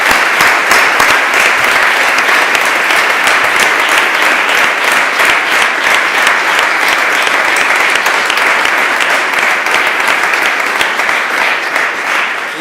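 Loud, sustained applause from an audience at a youth awards ceremony, a dense steady wash of hand claps with distinct individual claps rippling through, holding strong for the whole stretch.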